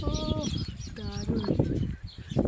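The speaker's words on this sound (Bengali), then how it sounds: "তো পাখির ডাকগুলো শোনো" Birds call near the hanging nests of baya weavers, giving several short, tonal clucking calls in quick bursts at close range, with a voice speaking in the background.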